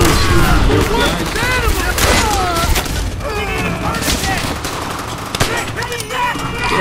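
Rapid bursts of gunfire and explosions from the co-op World War II shooter game Call of Duty: World at War, loud and continuous with several voices talking over the battle.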